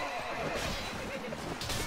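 A horse whinnies amid battle noise in Mount and Blade: Warband, a steady, dense wash of sound with the neigh blended into ongoing clatter rather than standing clearly alone.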